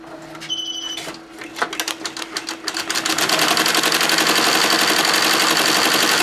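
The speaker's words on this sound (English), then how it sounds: "let's get embroidery on a windbreaker going" An embroidery machine stitching a nylon windbreaker jacket, starting with a few beeps and slow mechanical thumps, then speeding into a loud, rapid, steady rattling stitch rhythm close up.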